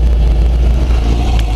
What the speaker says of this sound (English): There's a little heat shield on it, kind of rattles, so you can hear that heat shield rattling a little bit.